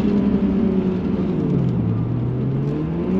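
A turbocharged Nissan Skyline R33 with an RB28 engine revs loud and close, a steady deep engine drone with a slowly sweeping pitch that dips and then climbs again, running continuously with no voices.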